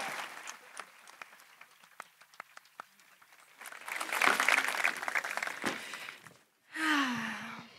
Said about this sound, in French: sous vos applaudissements à tous.